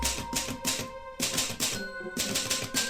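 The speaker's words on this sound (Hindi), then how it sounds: "मेरे दादाजी के पास यही टाइपराइटर था।" Rapid mechanical keystrokes clatter from an old typewriter in bursts separated by short pauses, with sharp metallic clacks and a ringing tone, close and loud with no speech.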